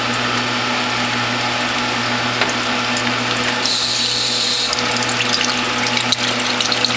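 A Whole Health Foundation juicer press runs steadily while squeezing watermelon juice, with a continuous low mechanical hum, some gear ratcheting and a watery trickle, close and loud.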